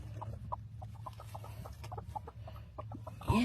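Silkie hens cluck softly in a coop, a quick series of short, close clucks over a low hum, ending with a brief louder squawk.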